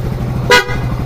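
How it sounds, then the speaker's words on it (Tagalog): A PIAA dual horn newly installed on a Kawasaki Bajaj 125 motorcycle gives one short, loud, close honk over a low idling hum. "Pia dual horn"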